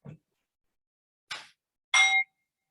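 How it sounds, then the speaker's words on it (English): A Nepalese healing gong is struck, with a dull tap followed by two brief bright metallic clangs, the last ringing with clear overtones before cutting off into silence. "Nepalese healing gong."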